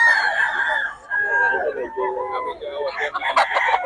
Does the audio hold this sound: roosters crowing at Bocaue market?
yes